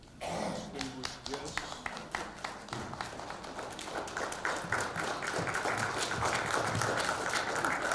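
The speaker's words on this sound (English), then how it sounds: "Why are you applauding?" Audience at a Veterans Day ceremony in Highland Park, Illinois, applauding with dense, continuous clapping that fills the room at moderate distance, with voices murmuring underneath.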